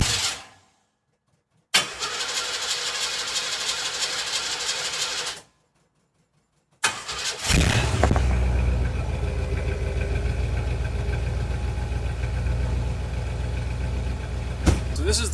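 A car's cold engine, just after a carburetor adjustment, cranks and catches, then settles into a loud, steady idle that runs on, close by; short silent gaps come before the start.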